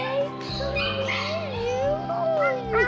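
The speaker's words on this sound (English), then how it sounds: "Come on, little dog." Small dog whimpering in a 1977 San Francisco crime drama scene, a wavering high whine drifting up and down over several seconds, close and fairly loud, with faint room tone underneath.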